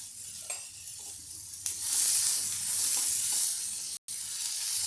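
Onion and tomato roasting in a pan with salt and asafoetida, a loud, steady hissing sizzle that swells after a moment and continues alone with a brief cutout near the end.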